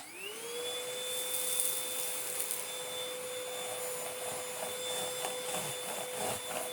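Easine iLife G50 cordless vacuum with edge brushes spins up quickly and then holds a steady, fairly quiet whine with an airy rush behind it, running alone without speech.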